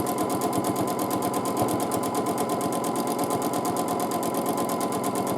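A sewing machine runs steadily while free motion quilting arches, a fast, even mechanical stitching rattle that stays close and continuous throughout.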